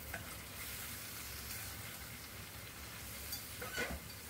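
Chicken frying with ground spices in a pan, with a faint, even sizzle and occasional light stirring scrapes near the end. It is quiet and continuous, with no speech.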